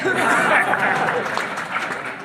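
An audience at a Hindi poetry gathering claps loudly in steady applause, close and full, with some chuckles and murmuring mixed in before it fades slightly.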